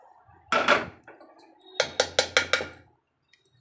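Pulihora tamarind rice being mixed in a metal vessel, with a long scraping stir followed by a run of four or five sharp, evenly spaced clinks of a spoon against the pot, close and fairly loud.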